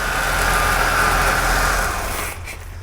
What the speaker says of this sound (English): when it was first started up, it idled up quite high?